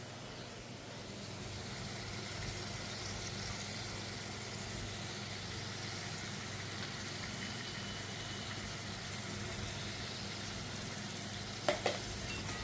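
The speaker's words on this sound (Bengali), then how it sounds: "এবার এটাকে মিক্স করব ভালো করে, যতক্ষণ এটা থেকে তেল ছেড়ে যায়।" Ginger and green chili paste stirred and frying in hot oil for a hilish fish curry, a steady, soft, continuous sizzle with faint scraping, a couple of brief clicks near the end.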